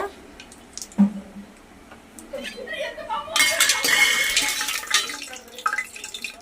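A spoon clinks against a pot while spices such as bay leaf, cinnamon, cloves and shahjeera for veg biryani are stirred in, followed by a burst of hissing sizzle as they hit the hot oil, close and fairly loud.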